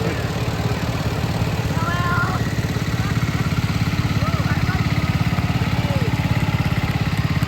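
Antique tractors roll past in a tractor parade at an antique tractor and engine show, a steady rumbling engine drone throughout with faint voices in the background.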